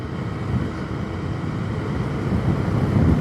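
A KTM Duke 250 Gen 3 motorcycle engine holds a steady drone after a quickshifter upshift while riding, with a low, rough, continuous hum under wind rush that swells slightly at the end.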